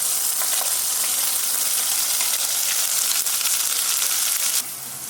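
A tomato-style puree hits hot frying spices for biryani, setting off a loud, steady sizzle that holds strong before cutting down sharply near the end.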